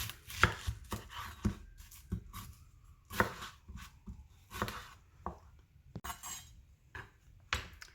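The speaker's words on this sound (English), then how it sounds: "Cut the onion in half." A knife cuts through an onion on a cutting board: a run of sharp, irregular chopping knocks up close, with no voices.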